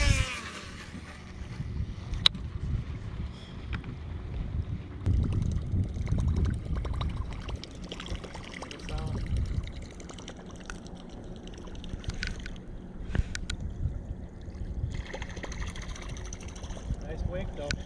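A fishing boat's motor drones steadily at high speed with water rushing and splashing against the hull, while people talk intermittently over the noise.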